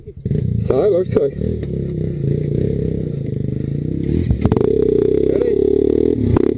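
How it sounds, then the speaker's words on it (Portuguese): Motorcycle on a dirt trail near Bragança Paulista, Brazil, its engine droning steadily throughout with clattering and scraping from the rough ground, while people talk over it. "Liga a moto e vai andando."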